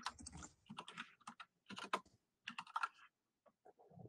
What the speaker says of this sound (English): So I'll just type in that input you used.